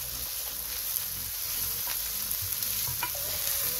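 Risotto rice sautéing in a pan, a steady soft sizzle with occasional stirring scrapes, close and continuous with no talking.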